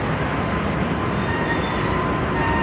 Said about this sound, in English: Just watching this train back up. It's a UP train.